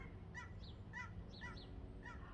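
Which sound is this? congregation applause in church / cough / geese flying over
geese flying over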